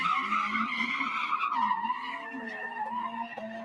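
Car tires squeal in a long sustained skid at a street takeover, a loud wavering screech that bends in pitch, close and continuous with no talk over it.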